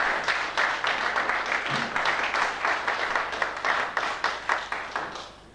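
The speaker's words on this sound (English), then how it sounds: "I'd like you to give him a round of applause" A room of people at a 1987 golf club captain's prize presentation gives a round of applause for the groundsman, with dense, sustained clapping at a steady level for several seconds that thins slightly toward the end.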